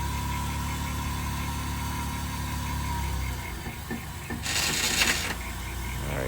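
A car at a police auction starts and settles into a steady idle, its low engine rumble running throughout with brief mechanical clatter and a burst of hiss near the end.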